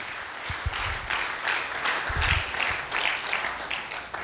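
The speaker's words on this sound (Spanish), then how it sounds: "Dale un aplauso a Cristo." Church congregation breaks into applause during a sermon, a moderate wash of clapping with a few louder bursts, sustained across the moment and with no speech over it.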